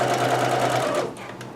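A sewing machine stitches a section of a kimono with a steady, close mechanical hum for about a second, then stops and fades.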